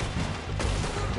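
Gunfire rings out in the video game Red Dead Redemption 2, a dense, booming burst of shots with a heavy low rumble, loud and continuous across a short stretch, with no talk.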